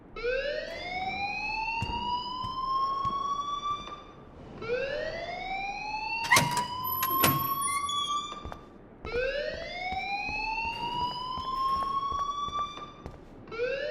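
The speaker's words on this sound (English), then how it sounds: "please turn off that alarm since that's your job" A rising, wailing siren-style alarm repeats in long upward sweeps in the video game Life is Strange, loud and continuous, with a couple of sharp clicks partway through and no speech.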